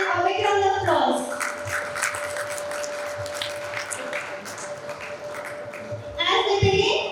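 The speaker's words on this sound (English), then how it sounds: "Please give them a big round of applause." Audience applause welcoming panelists onto the stage at an education dialogue event. The clapping swells between spoken announcements, with a steady electronic hum running underneath.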